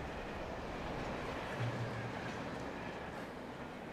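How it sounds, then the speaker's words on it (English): A train in the video game Alan Wake rumbles past as a dense, continuous roar with faint rhythmic clatter underneath, loud and steady from start to finish, with no talking. "There's the train."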